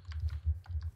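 Computer keyboard keys clicking in quick, irregular bursts during a Minecraft multiplayer session, soft and close, with no voices.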